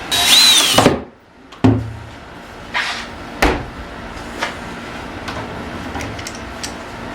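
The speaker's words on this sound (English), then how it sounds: "I'm going to get these holes drilled" A power drill whines in a short loud burst, then several brief knocks and shorter bursts follow while holes are drilled in a wooden board for a storage shelf, close and without talk.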